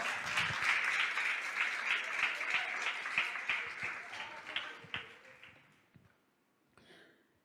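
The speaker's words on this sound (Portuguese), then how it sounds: "Você pode aplaudir o Senhor?" A church congregation applauding, a loud, dense burst of clapping with a few voices that fades away over several seconds into near silence, followed by a brief faint sound.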